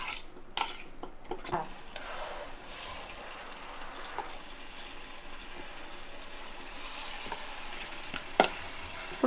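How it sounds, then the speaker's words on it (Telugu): Potato manchurian balls deep frying in a pan of oil, a steady close sizzle and bubbling hiss that runs throughout, with a few sharp clinks and stirring knocks. "డీప్ ఫ్రై చేసుకోవాలి"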